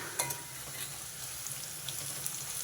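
Kasuri methi and onions fry in oil with a busy close-up sizzle, broken by a few light clinks and scrapes of stirring.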